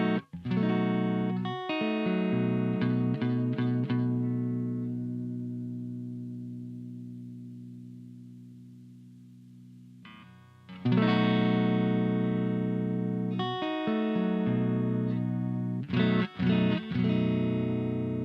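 Clean electric guitar on the neck pickup of an AS72, run through a reverb effects chain: sustained chords ring out and slowly decay into long shimmering tails, then fresh strums return, with no voices.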